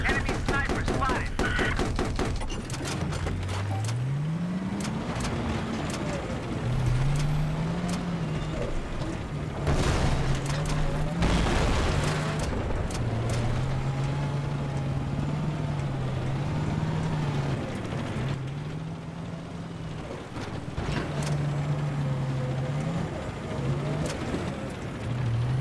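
A tank engine in Battlefield on the Caspian Border map, a steady low drone rising and falling as it revs, with scattered gunfire, mechanical clanks and occasional talking over it.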